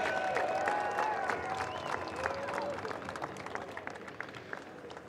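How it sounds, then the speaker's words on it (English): A stadium crowd at a Denver Broncos Ring of Fame ceremony applauds and cheers, broad distant clapping with scattered whistles and shouts that gradually thin out. "let's give one more round of applause for Steve Foley and Riley Odoms"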